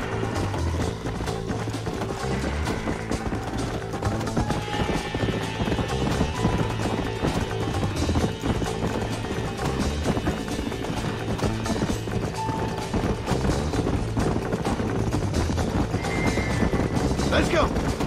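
A horse's hooves clip-clop at a brisk gallop in the Red Dead Redemption video game, a steady rhythmic pounding under game music and effects, with a brief whinny and people talking over it.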